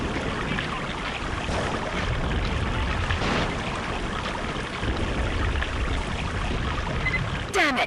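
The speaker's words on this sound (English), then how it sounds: "there's some water gushing through." Water gushing through a lit corridor in the shooter game Killzone Mercenary, a steady loud rushing wash that fills the whole stretch, with a brief sharp sweep at the very end.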